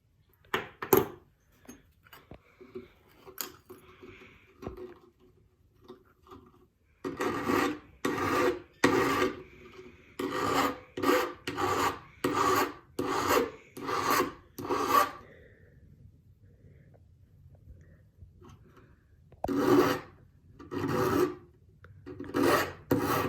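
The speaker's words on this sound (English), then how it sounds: "I'm just going to spend a bit more time filing it down" Hand filing of a piece for a patterns-and-textures craft, rendered as bursts of rhythmic rasping strokes, sparse at first then a fast regular run of close, crisp file passes, pausing and resuming near the end.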